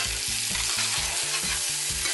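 Vegetables for a vegan dinner sizzle in a frying pan while a utensil stirs them in a quick regular scraping rhythm, close and steady over a constant frying hiss.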